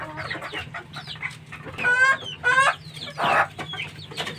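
A fighting rooster clucks and gives short, strained crowing calls in several close bursts, with a low steady hum in the background.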